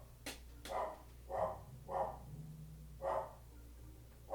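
A dog barks four or five times in a loose rhythm, moderately near, over a low steady background hum, with no talking.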